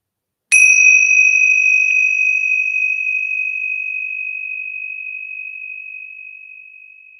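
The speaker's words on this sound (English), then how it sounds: "Let me know if you can hear these Ting Sha bells." Ting Sha bells, small Tibetan hand cymbals, struck once to give a bright, clear ring that sustains and slowly fades over several seconds, alone in a quiet room.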